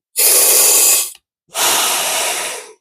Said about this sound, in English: I'll place it in my mouth and take a couple of breaths.